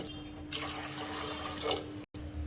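Water pours from a vessel into a pressure cooker for a second or so, a short splashing gush over a steady low hum, then stops.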